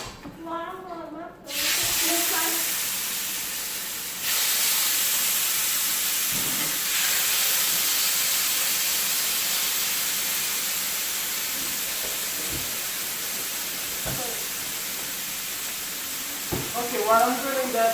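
Jerk chicken fries in hot oil with a loud, steady, close sizzling hiss that jumps in intensity early on, while a voice speaks briefly at the start and end.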